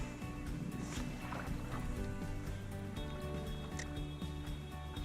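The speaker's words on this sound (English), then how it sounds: "I started to feel the burn from paddling on our trek to Jeremy's smallmouth spot." A kayak paddles across open water on a smallmouth bass fishing trip, giving a faint, continuous wash of water and soft paddle strokes against a low background rumble.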